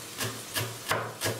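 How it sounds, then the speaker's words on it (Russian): Four slow, evenly spaced knife strokes finely chopping parsley thud softly against a wooden board, each a brief scraping chop. "Нарезаем мелко, примерно 50 граммов петрушки."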